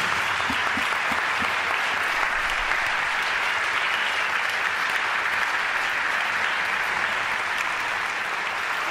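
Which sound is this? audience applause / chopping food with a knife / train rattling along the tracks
audience applause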